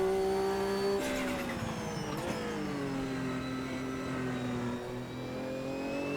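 A Group C race car in Automobilista 2 revs and holds a loud, sustained engine note that dips briefly, then climbs and settles again, on its own without talk.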